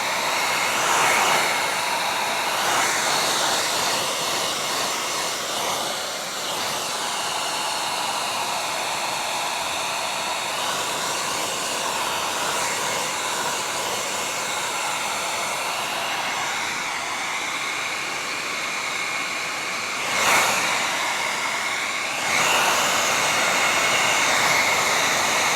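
Heat gun warming vinyl wrap on a van gives off a steady, loud, breathy blowing hiss that continues throughout, with brief surges near the end.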